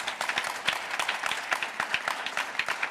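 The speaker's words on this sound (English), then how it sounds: "ask you to hold your applause" Audience at a mayoral candidate forum claps in a short, steady burst of applause, fairly distant and moderate in volume, with no talk over it.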